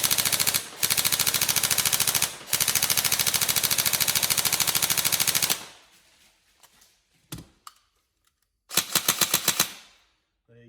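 A Tokyo Marui 416 Delta NGRS airsoft electric rifle, upgraded, fires loud rapid full-auto bursts, a long rattling stream broken by brief pauses, then a few quiet clicks and one more short burst.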